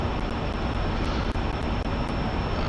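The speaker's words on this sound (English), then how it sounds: "The spool time on the engine is ridiculous, but it's fun." MiG-15 jet engine in the DCS combat flight simulator roars as a dense, steady broadband rush, loud and unbroken throughout, with no voices over it.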